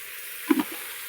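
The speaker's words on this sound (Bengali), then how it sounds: "তুলে এগুলো ভেজে নেবো এই তেলে" Fish frying in oil gives a soft, continuous sizzle, with a couple of brief pops or stirring knocks partway through a very short stretch.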